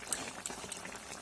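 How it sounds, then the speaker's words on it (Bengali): Gravy of a soya chunk kofta curry bubbles at a gentle boil in a pot, a soft, quiet simmer broken by a few small pops, with no voices. "দেখো ঝোল ফুটে উঠেছে"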